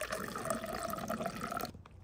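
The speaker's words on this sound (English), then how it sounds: "Then pull this hose out, just like that. Let these drain out." Coolant trickles and drips steadily from a pulled hose on a Yamaha 700R ATV during a coolant flush, a close, quiet liquid stream that stops abruptly near the end.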